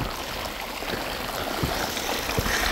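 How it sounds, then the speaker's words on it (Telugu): Hot spring water rushes downhill in Ladakh, a continuous close, loud flowing wash with a few soft splashes and no voices. "వాటర్ ఆ కిందికించి వస్తున్నాయి. ఫుల్ అంటే ఫుల్ వేడిగా ఉన్నాయి."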